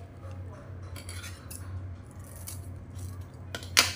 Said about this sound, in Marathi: अशा प्रकारे हळदीची पानं आपण कापून घेऊया